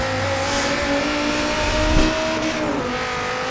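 A 2016 Dodge Viper ACR in Forza Horizon 3 drives a curvy forest road, its engine holding a loud, steady high-pitched drone with a brief surge near the middle and a gear shift toward the end.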